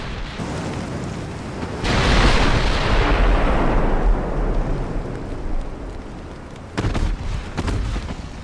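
Heavy naval gunfire from early-1920s US warships in the strategy game Ultimate Admiral Dreadnoughts: a loud deep boom swells up and rolls out over several seconds, followed by a sharper cluster of distant shots near the end.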